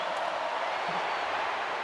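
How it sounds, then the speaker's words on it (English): Crowd roar at a college football game between Auburn and Alabama, a steady, dense wash of distant cheering that fills the whole moment without breaks. "Crowd roared"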